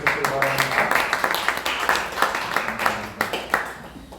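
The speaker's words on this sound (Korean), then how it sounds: "한번 박수로 환영해 주시기 바랍니다" At a church joint worship service for Independence Movement Day, a gathering applauds to welcome an elder, steady clapping mixed with murmured voices.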